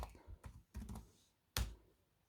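Keys clatter on the keyboard of a Huawei Matebook 13 laptop with an AMD Ryzen 5, a few quick close clusters of taps followed by one sharp, louder keystroke, with no talking.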